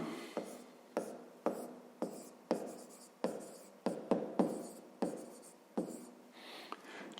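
Pen on paper during a fifth-grade math exercise: a series of sharp, close taps and short scratching strokes in an irregular rhythm, each stroke fading quickly, with no talking.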